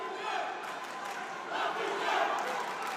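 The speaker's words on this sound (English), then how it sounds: "the fans trying to rally the boxer that they are cheering for in what is an absolutely raucous atmosphere" Raucous arena crowd of boxing fans at a women's 54 kg world championship final in Niš, a dense continuous roar of cheering and shouting that swells in waves, loud and steady throughout.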